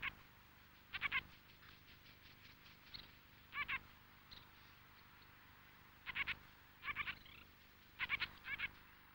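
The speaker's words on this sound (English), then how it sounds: "They are usually silent, but you may hear gruff little croaking noises." Gruff little croaking calls of a ruff, a British wading bird at freshwater pools near the coast, in several short bursts of two or three rough notes separated by pauses, faint and distant.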